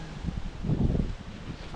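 Strong wind buffets outdoors, a low, rumbling gusty roar with microphone buffeting that swells and eases throughout.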